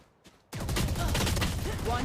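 Odin machine gun firing in Valorant, a sudden loud sustained burst that starts after a brief quiet moment and keeps going to the end, close and dense.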